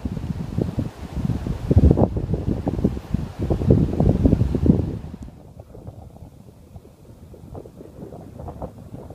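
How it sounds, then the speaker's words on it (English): Strong wind gusts and buffets loudly against the microphone in rough surges, dropping to a calmer, lower rush partway through, outdoors near Terrace. "The wind is really starting to pick up."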